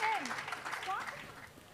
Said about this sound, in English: Please, please give him a big round of applause, ladies and gentlemen.